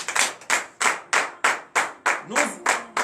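Rhythmic clapping from a congregation during a morning prayer service in Benin, nine sharp evenly spaced bursts of hands in unison, close and loud, with a voice briefly singing or calling near the end.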